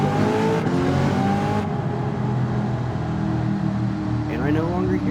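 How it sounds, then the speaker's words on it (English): A race car engine in Gran Turismo 7 revs loudly throughout, its pitch rising and falling in steady sweeps, with a person talking over the game sound. "the car is going, the car is going"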